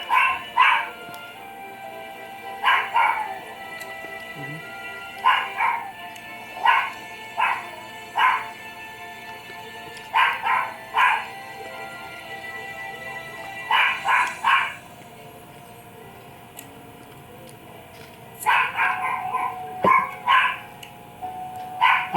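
A dog barks in repeated short bursts of one to three barks, separated by brief pauses, at moderate volume and a little distant, with a faint background hum.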